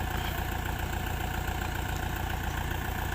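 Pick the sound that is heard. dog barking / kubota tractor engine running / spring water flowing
kubota tractor engine running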